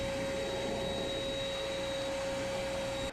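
A vacuum cleaner sucking up paint scrapings in a boat's galley runs at a steady, loud, high whine with a constant motor hum, cutting off abruptly at the end.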